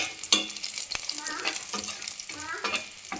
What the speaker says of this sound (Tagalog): Ito, nakapagisa na ako ng bawang, sibuyas, at luya. Hintayin lang natin na mag-brown.